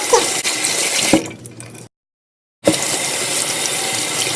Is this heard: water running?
yes